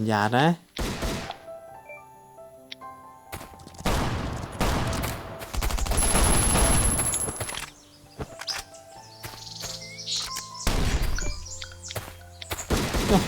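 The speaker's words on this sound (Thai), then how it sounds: "แล้วมันยิงกันอยู่นะ" Gunfire in the survival shooter Last Island of Survival, with bursts of rapid shots and scattered single cracks spread across the stretch, some near and loud, some softer, with someone speaking between them.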